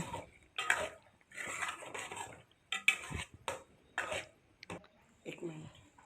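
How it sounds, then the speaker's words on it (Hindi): Cream is stirred into chicken white karahi in a pot with a spoon, making intermittent scraping strokes and metallic clinks in short bursts separated by pauses, close and moderately quiet. "तो अब इस मलाई को हम इसमें अच्छे तरीके से मिक्स करेंगे।"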